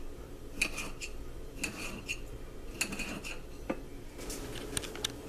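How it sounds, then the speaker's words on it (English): Knife cutting cooked steak into bite-sized pieces, heard as a series of light, irregular clinks and taps of metal against a plate or board, close and fairly quiet. "after that we're going to go ahead and just cut it up"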